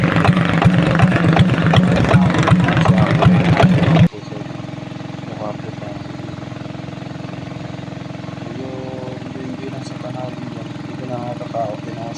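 A boat engine drones steadily throughout, loud and pulsing at first, then lower and smoother after a sudden change, with voices talking over it.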